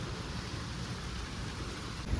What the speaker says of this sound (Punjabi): ਮੀਂਹ ਤੇਜ਼ ਹੋ ਗਿਆ ਹੁਣ ਪੂਰਾ ਅੱਜ ਪੂਰੀ ਝੜੀ ਲੱਗ ਗਈ